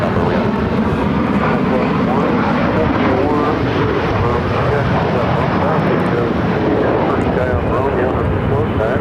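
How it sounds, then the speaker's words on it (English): A Southwest Airlines Boeing 737-700 arrives at Phoenix airport, its engines giving a loud, continuous, broadband roar that holds steady throughout from fairly close by. "Southwest Airlines flight 3678 coming in from San Diego."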